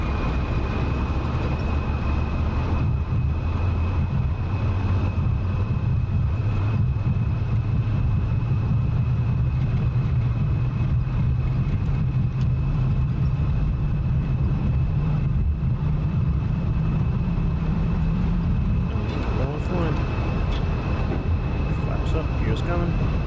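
In the DCS flight simulator, an F-14 Tomcat's engines power up with a steady, loud turbine roar and a low rumble that slowly climbs in pitch, continuous throughout with a whining tone above.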